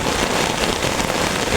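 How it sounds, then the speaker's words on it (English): Heavy rain pours down steadily with wind, a dense, loud, even hiss of drops hitting surfaces, alone without voices. "the rain is getting stronger, the wind is getting stronger"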